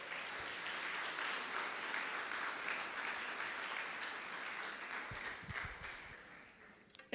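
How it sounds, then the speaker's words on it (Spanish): A congregation applauds during a sermon with a continuous wash of clapping that sounds soft and somewhat distant, then thins out toward the end. "Da un aplauso al Señor ahí por ese."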